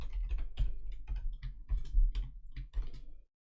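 Rapid keystrokes on a computer keyboard as a short line of Python code is entered, close and clattery for about three seconds before stopping.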